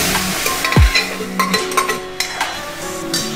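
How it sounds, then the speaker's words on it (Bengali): Pressure-boiled masoor dal is tipped into a pan of frying onions and ginger paste, making a low thud followed by soft sizzling and a few spoon clinks and scrapes against the pot, close and fairly loud. "এর মধ্যে প্রেশার করে সেদ্ধ করে রাখা ডালটা দিয়ে দিচ্ছি"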